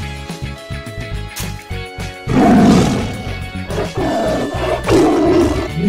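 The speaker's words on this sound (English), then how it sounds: "Orange Tiger." A toy orange tiger gives out a loud, rough roar that swells abruptly after a short stretch of lighter, rhythmic sound, then repeats in a couple of surging bursts.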